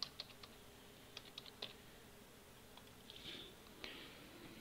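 Sparse clicks and taps on a computer keyboard during a Star Wars: The Old Republic game session, quiet and close, irregular keystrokes with short pauses, no talk.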